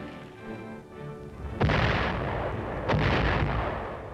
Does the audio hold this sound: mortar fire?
yes